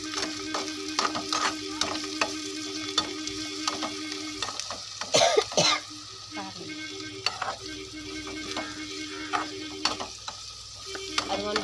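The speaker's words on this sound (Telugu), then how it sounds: "ఉల్లిపాయకి టమాటాకి పచ్చిమిర్చికి పట్టేటట్టుగా మనం తిప్పుకోవాలి" Onion, tomato and green chilli frying in a pan are stirred steadily, a continuous close sizzle broken by repeated scraping strokes of the spoon, with one louder clatter midway.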